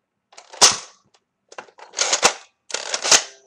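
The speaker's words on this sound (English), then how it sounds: "So without further delay, I'm going to shoot the cushion right there." A vintage Nerf Sawtooth toy blaster fires darts in three separate bursts, each a sharp snapping pop with a brief mechanical clatter, close and fairly quiet with short silences between.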